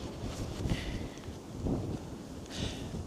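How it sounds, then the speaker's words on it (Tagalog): Gusty wind rumbling and buffeting against the microphone in uneven bursts, with no voices. "Malakas yung hangin"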